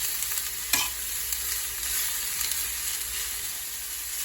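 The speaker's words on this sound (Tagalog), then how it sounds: "bali gisang-gisa na ang puso ng saging" Chopped banana heart sautés with onion and garlic in a pan, a steady close sizzle with a sharp utensil knock early on and soft stirring scrapes throughout.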